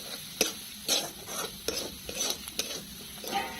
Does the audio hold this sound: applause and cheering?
no